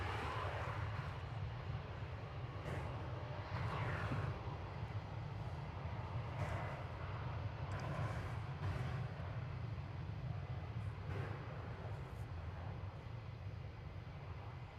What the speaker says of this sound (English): This is flight 2009 in Airbus A321 going to Seattle.